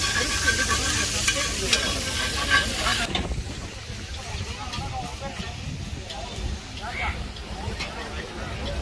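Fish sizzles and fries in a pan at a beach food stall by the Marina, a steady hiss under nearby talk and stall bustle, louder at first and then settling lower.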